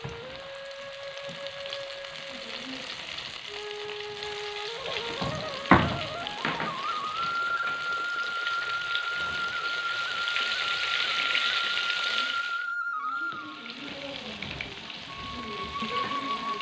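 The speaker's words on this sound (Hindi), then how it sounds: "अच्छा इसके बाद हम इसको तेल गर्म है हमारे पास इसको फ्राई करेंगे" Flour-coated chicken pieces frying in hot oil in a KFC-style home recipe give off a steady, close hiss and crackle. A brief thump lands partway through, the sizzle dies out for a moment near the end, then it resumes.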